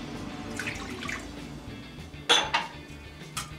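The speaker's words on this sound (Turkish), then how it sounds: "Ve bunları şeker eriyene kadar, tuz eriyene kadar, maya aktifleşene kadar karıştıracağım." A utensil stirs warm milk with sugar, salt and yeast in a bowl, giving soft swishing and a few clear clinks against the bowl's side, quiet and close, with no voices.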